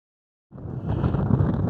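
Wind gusts buffet the microphone after a brief silence, a loud, rumbling roar that holds steady to the end.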